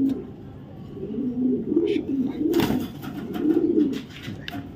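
Racing pigeons and their squabs coo nearby in a farm loft, low rolling calls rising and falling throughout, with a few sharper knocks and brief sounds of handling.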